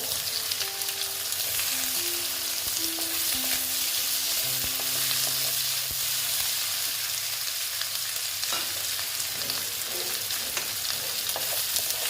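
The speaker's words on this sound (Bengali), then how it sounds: "পেঁয়াজটা একটু ভেজে নিচ্ছি" Onions fry in oil after garlic with a constant bright sizzle, broken by a few stirring scrapes and a faint tonal whine in the background.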